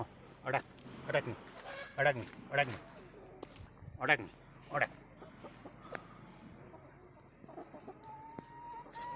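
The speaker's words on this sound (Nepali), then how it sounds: "यो भाले चाहिँ मलाई अट्याक गर्यो" A rooster clucks in short, repeated bursts at close range while a person taunts it during a chicken fight, with talking running between and over the calls.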